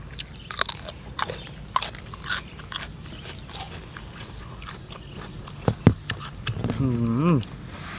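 Blanched squid bitten and chewed close up, crisp crunching bites and wet chewing repeating irregularly, with a person talking and humming over them.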